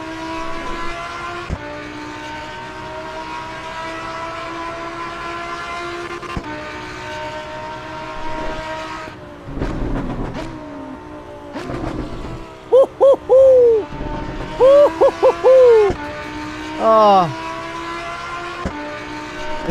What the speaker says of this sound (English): The audio in this game outside the car is the best audio in sim racing.